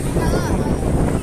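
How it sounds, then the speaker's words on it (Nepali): Strong wind blows hard over the sea with breaking waves, a loud continuous rush buffeting the microphone up close. "आज हावा एकदमै चलेको छ छाल हानेको छ"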